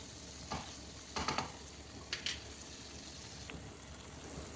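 A spoon stirs a fried mixture with coriander leaves in a pan, giving a few soft scraping clacks over a faint low sizzle, quiet and close, with no speech.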